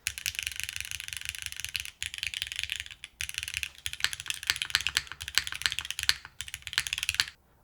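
Mechanical keyboard with a brass case featuring internal ridges and silicone gaskets, typed on in fast, steady bursts of crisp clacks with brief pauses, close and clear with no talking.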